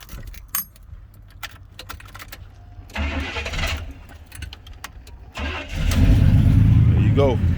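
Keys jingle and a person talks before a Chevy truck's newly replaced engine cranks for a moment, then catches and settles into a loud, steady idle up close.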